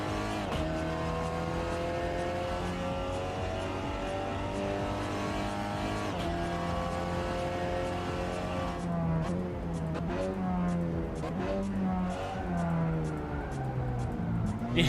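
Race car engine from the sim racing game Assetto Corsa, a loud sustained roar that climbs and drops through gear changes with some tire squeal, continuous across the whole stretch.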